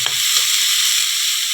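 Cauliflower florets frying in a pan and being stirred, a loud continuous hiss of sizzling oil with a couple of short scraping stirs near the start, no talk.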